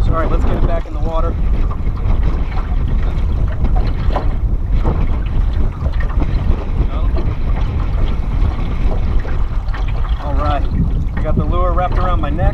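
Heavy wind buffeting a microphone outdoors on a small fishing boat on the water, a constant loud roar with brief voices breaking through now and then.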